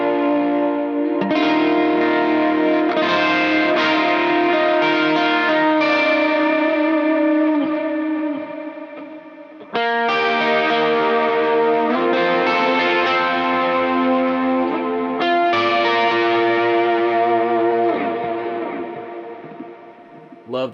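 Electric guitar played through a pedalboard with a boost, saturation and reverb, sustained overdriven chords ringing out with long echoing tails, a brief break near the middle before the saturated strumming resumes loud and full.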